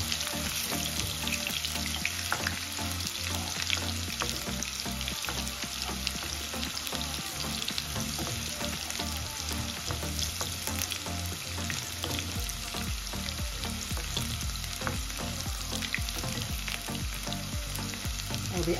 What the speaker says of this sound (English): I'll just allow this to fry for a while